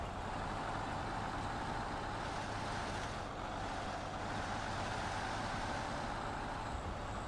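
Heavy truck in the off-road driving game Snowrunner, its engine a steady, loud, broadband rumble and drone that holds almost unchanged throughout with no pauses and no talk.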